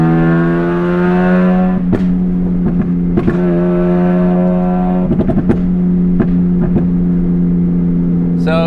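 A Mazda RX-8 with a bridgeported 13B rotary engine drones loud and close at high revs on the Nürburgring, with a strong steady tone and sharp shifts and pops, while voices talk over it inside the car.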